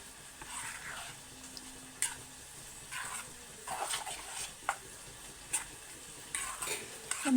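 Batter of soaked grain mixed with a spoon of rock salt and a little water being stirred by hand in a bowl, giving soft repeated scraping and swishing strokes in bursts, close and fairly quiet with no talk.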